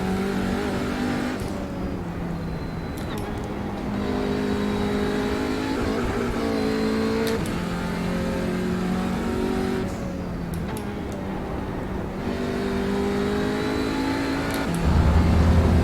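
GT3-class race car engine on a circuit, revving hard through short gears and dropping off into turns, with repeated rises and falls in pitch and a steady loud drone throughout.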